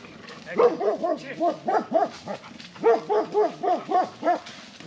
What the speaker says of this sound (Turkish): Köpek de geldi.